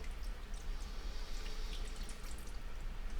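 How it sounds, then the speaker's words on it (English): Water pouring into a pot of rice, a soft, steady splashing trickle heard up close at a low level. "And I'm going to pour water on top of it."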